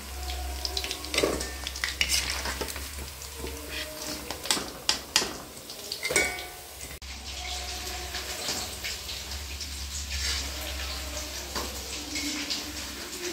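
Chicken pieces frying in hot oil for chilli chicken, a steady crackling sizzle with scattered louder pops and stirring clatter, running continuously at moderate level with no talking.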